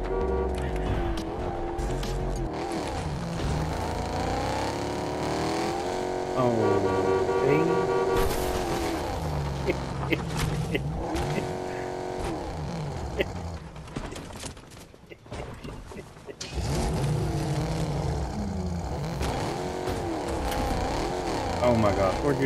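Car driving in Fortnite, engine roar with shifting revs and tire noise running steadily throughout, briefly dipping midway, with players talking over it.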